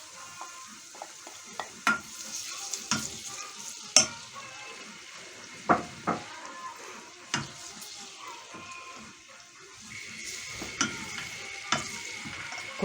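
Red and green peppers frying in a pan give off a continuous sizzle, punctuated by repeated spoon taps and scrapes as they are stirred, moderately close, with no talking.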